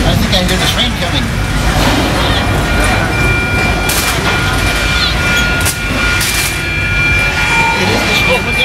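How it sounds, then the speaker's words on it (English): Train approaching on the Universal Studios tour, a loud, steady rumble of rail and vehicle noise with a few sharp bursts, heard from a tram full of riders. "I think I hear the train coming."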